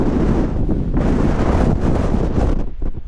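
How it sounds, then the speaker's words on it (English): Strong wind whips around a lakeside winter wild camp in the fells, roaring loud and gusty against the microphone in a constant buffeting rush with no one speaking. "Wind, unreal"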